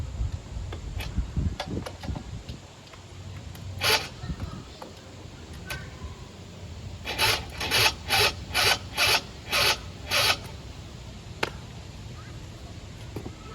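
A Vento Triton R4 scooter engine is cranked repeatedly without catching: scattered clicks and mechanical rattles, then a rhythmic run of about seven rasping starter bursts. The engine never fires, and light background noise continues throughout.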